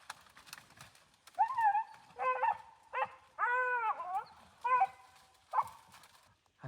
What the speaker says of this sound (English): I think that's actually Ed that's doing the barking too